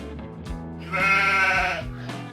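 Sheep bleating on a farm where machines handle care and shearing: one drawn-out, wavering bleat sits in the middle, with fainter animal calls and low background noise around it and no talk.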